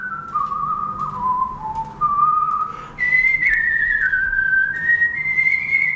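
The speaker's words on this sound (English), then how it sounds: "People say, well, how can you speak with whistles?" A single person whistles in the style of Gomera whistled speech, a clear melodic line of sliding tones that rises and falls in pitch, loud and close with no talk.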